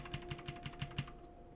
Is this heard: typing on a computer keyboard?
yes